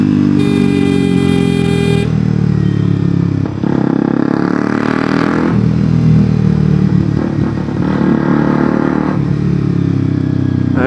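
Loud motorcycle fitted with an Akrapovic exhaust, sounding continuously and close with rough engine roar and surges of revving throughout, no talk heard.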